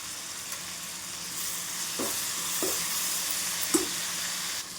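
Tomatoes softening in hot oil in a pan for mint chutney, with turmeric added: a steady sizzle and fry throughout, broken by a few soft stirring scrapes, no talk.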